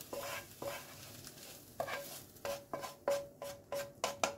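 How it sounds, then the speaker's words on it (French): Burger mixture of ground meat being stirred in a bowl, repeated wet squelching strokes, sparse at first and then quickening into a steady rhythm, close and fairly quiet. "Et je mélange, je mélange, je mélange."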